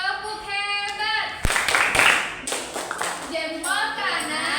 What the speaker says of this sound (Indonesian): Kita kasih lagi tepuk hebat untuk kelompok 2.